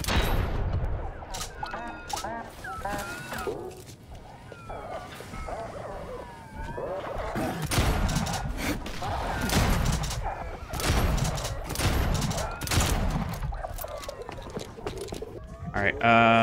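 Shotgun blasts in the zombie game Dead Island 2, a run of heavy booming shots spaced across the stretch amid game noise and growling, with a voice talking over parts of it.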